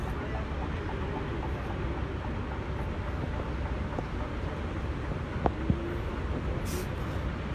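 Steady low rumble of a moving train in Hong Kong with constant broadband noise and wind buffeting, a couple of brief clicks near the end, no clear talk.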